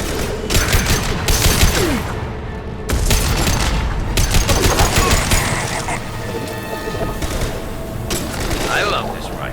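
Sustained rifle fire in the video game Mass Effect 2, a loud, rapid, steady rattle of automatic shots nearly throughout, briefly pausing once and then resuming, with game voices and effects mixed underneath.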